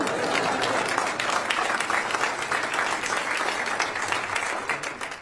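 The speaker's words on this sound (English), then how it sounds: "please wave or cheer when your group is called" A crowd at a brigadier general's retirement ceremony at Edwards Air Force Base claps and cheers steadily as honorary commanders are called. The loud, dense applause holds throughout and tapers slightly at the end.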